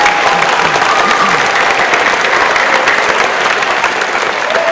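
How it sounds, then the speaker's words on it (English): Sustained applause fills a school spring concert hall for a fifth-grade orchestra, a dense, steady wash of many hands clapping close and loud throughout, with faint crowd murmur beneath. "Let's give one more round of applause for our orchestra led by Mr. Hyde"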